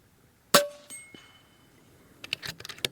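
Air rifle pellets from an FX Panthera 700 strike steel targets, giving one loud ringing clang followed by a fainter hit, then a cluster of sharp metallic pings near the end.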